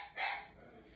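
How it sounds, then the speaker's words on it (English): A dog gives a single short bark nearby, fairly loud against a quiet room, with no talking during it. "Sorry about the dogs."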